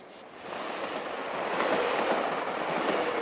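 A passenger train on a long-distance run out of Chicago toward the California Zephyr connection rumbles steadily, a continuous broad roar that swells slightly louder partway through, with no speech over it.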